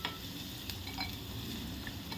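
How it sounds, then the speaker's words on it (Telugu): Cut okra pieces with salt cooking in a pan, giving a steady soft sizzle with faint occasional stirring clicks, quiet and even throughout. "తర్వాత మనం బెండకాయ ముక్కలు వేసుకుని ఉప్పు వేసుకుని 10 నిమిషాలు మగ్గబెట్టుకోవాలండి"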